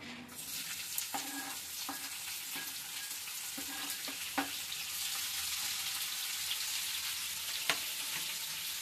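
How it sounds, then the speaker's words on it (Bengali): Chopped onions fry in a pan with a steady, soft sizzle and crackle. Occasional light clicks and stirring taps come from the utensil against the pan, fairly quiet and close, with no voices. "আমরা যে পেঁয়াজ কেটে রেখেছি ওই পেঁয়াজগুলো আমরা ভেজে নেব হালকা করে"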